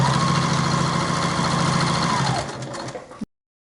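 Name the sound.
sewing machine stitching a bag pocket seam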